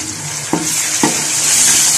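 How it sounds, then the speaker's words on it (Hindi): Spice masala fries in a pan for an aloo mongray sabzi, a constant loud sizzle broken by two sharp scrapes of a spoon stirring against the pan. "मसाला मिक्स करके अच्छी तरह से भून लूंगी।"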